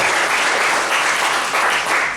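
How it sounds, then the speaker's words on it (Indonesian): A church congregation at an evening prayer service claps and applauds, a dense, steady wash of many hands lasting a couple of seconds, close and loud. "Boleh tepuk tangan bagi Tuhan."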